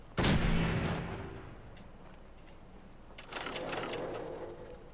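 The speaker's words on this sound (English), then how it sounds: "Opening fire." Video game gunfire in Boston: one sharp, loud blast that rings and fades over about a second, followed by a rattling burst of shots and mechanical clatter a few seconds later.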